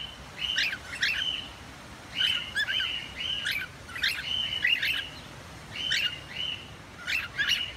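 A cockatiel gives repeated short, bright chirps in clustered phrases during a talking-training session, fairly faint and close, spaced by brief quiet gaps over steady low background hiss.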